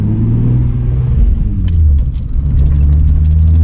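A Nissan 350Z with a manual gearbox sits inside the cabin as its engine drones low and loud, the pitch shifting as the car is given gas, with faint rattles creeping in toward the end.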